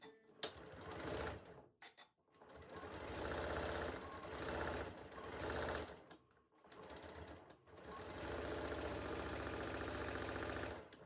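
A sewing machine pieces a quilt block for a tulip star barn star sampler quilt, running in three long loud bursts with brief pauses between them, close up and with no talking.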